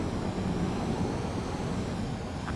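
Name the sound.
fighter jet landing in the video game Ace Combat 7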